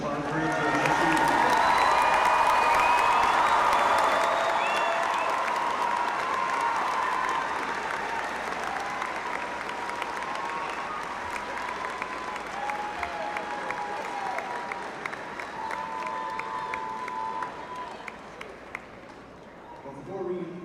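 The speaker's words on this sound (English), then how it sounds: "One more round of applause for each of our graduates." A large audience at a Spring Lake Park high school graduation for the class of 2024 applauds its graduates in a long, loud, sustained ovation that slowly thins out and fades toward the end.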